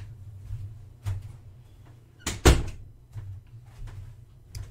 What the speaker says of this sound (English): hold on 1 second because I forgot to close the door